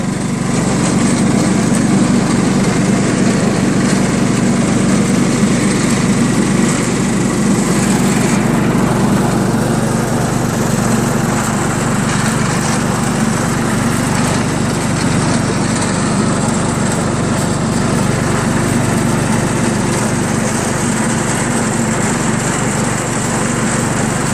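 A John Deere STX30 lawn tractor riding mower engine runs steadily and loudly from start to finish, a continuous close drone with no voices over it.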